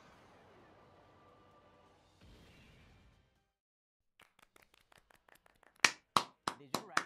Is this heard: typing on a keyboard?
no